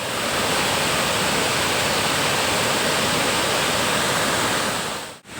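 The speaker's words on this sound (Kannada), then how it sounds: "ಇದು ನಾವು ನೋಡ್ತಾ ಇರುವ ವಿಭೂತಿ ಜಲಪಾತ" Vibhuthi Falls in Ankola taluk roars as a steady, loud, unbroken wash of water throughout, cutting off abruptly at the very end.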